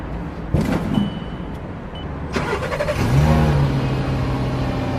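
A brand-new car on delivery day: a couple of clicks and clunks, then the engine cranks and catches, settling into a steady idle after a brief rev, loud and close.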